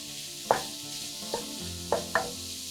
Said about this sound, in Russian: На горячую сковороду выкладываем нарезанные грибы.